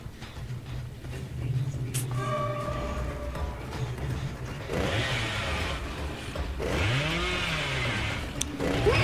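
The Cannibal's chainsaw in the Dead by Daylight video game revs with a sustained buzzing drone, then breaks into harsh roaring bursts over steady game background noise.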